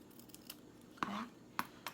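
Scissors snip through a paper gift tag in two short, crisp cuts, close and fairly quiet, with light handling clicks around them.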